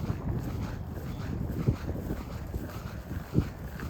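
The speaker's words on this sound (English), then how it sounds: "It's too windy though." Steady wind buffets a microphone outdoors at a radio-controlled E-Flite 300 Extra electric plane flying session, a continuous low rumble with a couple of brief thumps.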